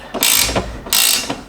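A ratchet wrench loosening a bolt on a Cusco quick-release strut tower bar in a car's engine bay, two loud, close bursts of rapid clicking ratchet strokes.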